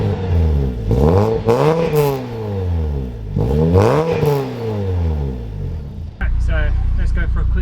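A supercharged Renault Clio RS200 engine revs hard several times in a row, each loud sweep rising and falling close by, ending in a steady high idle.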